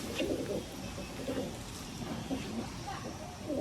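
Madrasi pigeons held for sale give soft, repeated cooing murmurs close by, partly under low voices and handling noise.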